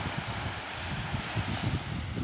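Strong sea waves wash onto a beach during the northeast monsoon, a continuous rough surf roar mixed with buffeting wind noise on the microphone.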